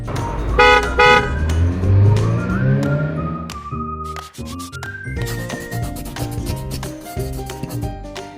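A car horn toots several times in short bursts near the microphone, followed by a squeal and further car sounds, with no one talking.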